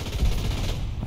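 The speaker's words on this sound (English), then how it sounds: "Oh, that's an AA gun." Rapid automatic fire from an anti-aircraft gun in the War Thunder tank game, a dense, continuous burst of heavy thuds filling the whole moment at steady loudness.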